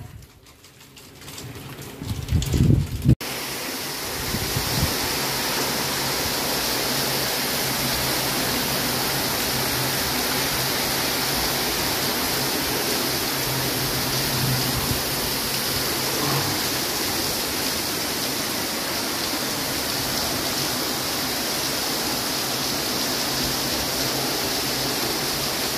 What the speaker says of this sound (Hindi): बाप रे बाप जोर की बारिश आ गई.